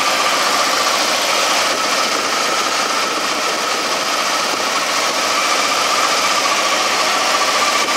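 A red Ford F-150 with a swapped engine idles steadily while its AC idler pulley whirs, a constant close mechanical hum and whine holding even throughout with no talk.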